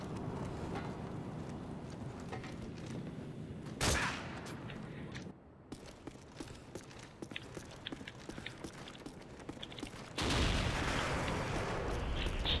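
A Dragunov sniper rifle in Call of Duty: Modern Warfare 3 lets off a couple of sharp, isolated shots several seconds apart over quiet game ambience.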